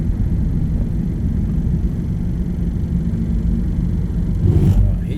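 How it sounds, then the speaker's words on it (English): A construction truck drives along a back road where bridges are being replaced, a steady low rumble heard from inside a vehicle, swelling briefly near the end as it passes close. "Watch this truck."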